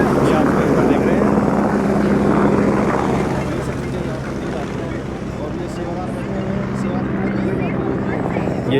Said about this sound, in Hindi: ये हो गया टेक ऑफ और ये गए भाई हेलीकॉप्टर जो है, ये आप देख रहे हैं।